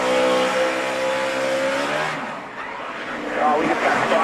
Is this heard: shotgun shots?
no